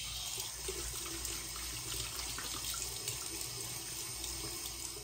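Bathroom tap running steadily into a sink as face cleanser is rinsed off, a soft continuous splash and gurgle of water close by with no talk.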